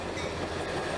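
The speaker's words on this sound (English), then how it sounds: "WH-2 locomotive, the last one on mark" GP40 WH-2 diesel locomotive and train rolling steadily through a station on a summer afternoon, a continuous loud rumble with faint rhythmic wheel clatter.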